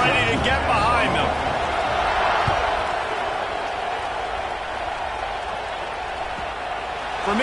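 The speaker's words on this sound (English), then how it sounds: "this crowd now ready to get behind them" A college football stadium crowd roars steadily at kickoff, a broad, sustained wash of cheering heard over a play-by-play announcer's voice.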